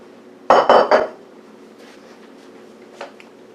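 A bowl is set down and shifted on a kitchen counter during scone baking, giving a short cluster of close ceramic clatters and clinks, then near quiet with one faint knock.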